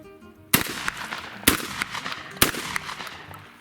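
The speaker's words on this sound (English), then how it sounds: "that was our 5th shot using our chosen powders" Three shotgun blasts from reloaded shotshell hulls, each a sharp, loud report about a second apart, followed by short echoing decay.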